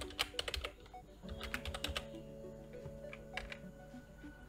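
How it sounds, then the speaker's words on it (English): Quick bursts of computer keyboard typing click close by in uneven runs of keystrokes, with soft background music beneath and no voices. "press escape on the keyboard, and finally type colon and WQ and press enter to save and exit from main.py file"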